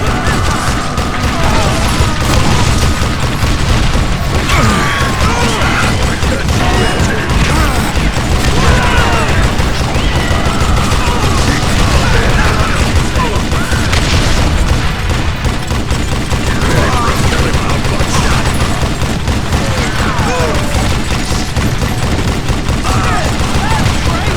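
Western shootout gunfire in the video game Call of Juarez Gunslinger, a loud, unbroken barrage of overlapping shots and cracking reports with clattering impacts throughout.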